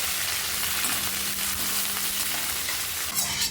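Curry leaves fry in hot oil in a pan for pirandai thuvayal, giving a steady, close hissing sizzle throughout with a few crackling pops.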